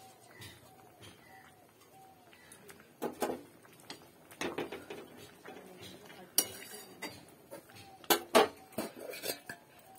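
Lentil dumplings (bori) dropped into a pan while a vegetable sukto cooks, giving scattered clattering knocks and metallic clinks in a few close bursts, with faint bird cooing in the background.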